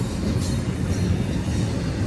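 A BNSF freight train passes on the Cajon subdivision in Southern California, with a loud, steady low rumble of wheels and cars rolling by close at hand.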